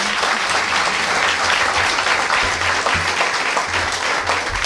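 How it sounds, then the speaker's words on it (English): Audience applause for donors at a Chicago mayoral event on citywide violence intervention, a thick continuous wash of clapping from a large crowd, loud and steady throughout. "I would ask that you give them a round of applause because they have come through."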